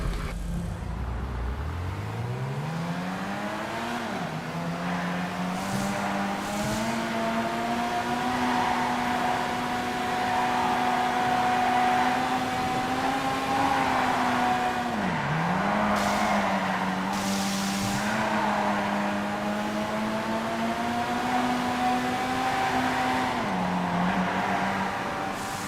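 The Ocelot Swinger car in a video game revs through a long drive, engine note climbing and holding, dipping sharply at corners with faint tire squeal, loud and continuous throughout.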